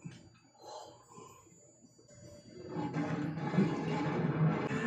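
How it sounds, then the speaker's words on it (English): A lion roars in the anime Dr. Stone, a rough, rumbling growl swelling up after a quieter opening and holding at moderate loudness to the end, alone with no voices. "Why is there a lion in Japan?"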